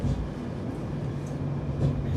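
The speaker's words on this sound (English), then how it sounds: "we should be able to get a tram, and I think there's one coming in" A Sydney light rail tram pulls into a stop, giving a steady low rumble with a faint tonal hum that swells slightly near the end, continuous and fairly close, with no speech.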